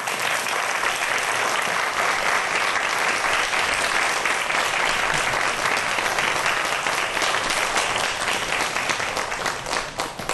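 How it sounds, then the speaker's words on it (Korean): Sustained, dense applause from a studio audience greeting a rocket scientist, a lead figure in the Naro space launch, as he walks on stage at a Korean science talk event; steady and loud throughout, with no speech. "여러분 큰 박수로 무대 위로 모시겠습니다"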